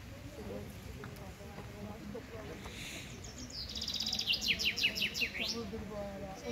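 Birds sing at a lakeside tent campsite by Nazlı Göl near Abant Lake. A quick trilling phrase rises clearly in the second half over quiet ambient noise, with faint talk in the background.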